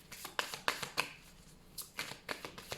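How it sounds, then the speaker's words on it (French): Tarot cards are handled and laid down onto a spread, quick crisp flicks and slaps of card against card in a close, irregular run of about a dozen short strokes. "Je vais rajouter une carte."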